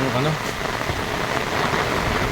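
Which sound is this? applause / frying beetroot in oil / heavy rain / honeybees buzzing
heavy rain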